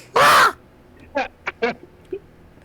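A crow gives one loud, harsh caw, then a quieter string of three or four short croaks and clicks follows, close and alone without speech.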